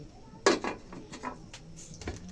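A metal lid set onto a cooking pot in a home kitchen, one sharp clang followed by a few lighter clinks and rattles as it settles, close and alone without talking.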